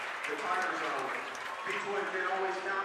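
A crowd applauds an award ceremony held on the court during a Covington Catholic versus Beechwood high school basketball game in 2020, a steady wash of clapping mixed with loud crowd chatter and voices throughout.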